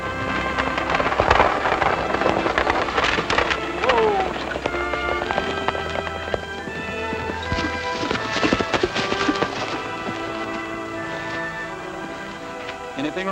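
Horses clip-clopping as they pull a stagecoach in a 1940 western, with steady hoofbeats and rattling over background music and noise, continuous throughout.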